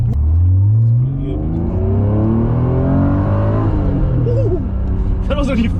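A Honda NSX in Durban, South Africa accelerates hard in first gear up to 5,000 RPM, its loud engine note climbing steadily before easing off, with faint voices near the end.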